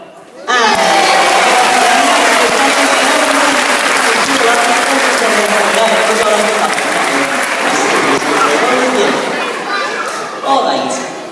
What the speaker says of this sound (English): give him a nice big round of applause for me, guys